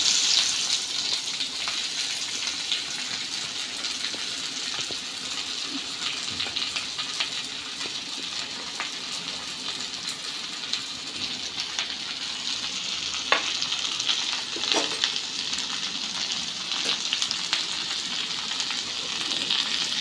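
Chopped onion frying in a pan with hot oil after roasted coconut is taken out, a steady crackling sizzle with occasional scrapes and clinks of stirring, close and continuous.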